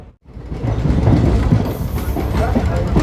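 A passenger train running on the rails near Dimapur, a loud close rumble with rhythmic clatter from the wheels, with a voice speaking over it.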